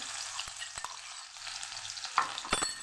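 Garlic sautés in a pan of oil, giving a steady close sizzle broken by a few sharp scrapes and taps of a spoon stirring.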